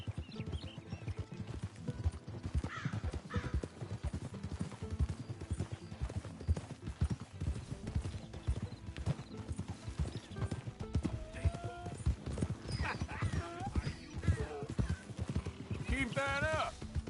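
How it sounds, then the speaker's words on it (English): A donkey's hooves clip-clop in a steady, continuous walking rhythm, close and moderately loud, with occasional braying-like calls and people talking over it. "It's just a donkey"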